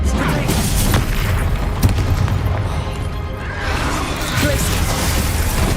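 A Bombarda spell explosion in the Hogwarts Legacy video game: a loud, dense, rumbling blast filling the whole clip, with crashing noise and a brief heavier thump in the middle.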